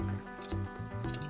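Scissors cutting through an old cotton T-shirt for a no-sew hair band, with a couple of crisp snips standing out over a steady background hum and tones.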